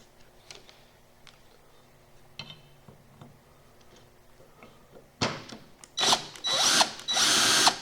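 A cordless power drill backs screws out of the valve body plate on a 2006 Dodge Ram 48RE transmission, with faint ticking handling noises first, then loud sustained whirring bursts building near the end.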